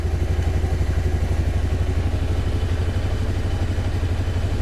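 A scooter engine runs near by with a steady, rapid putter and clattering pulse, loud and even throughout, with no audible change in pitch and no voices over it.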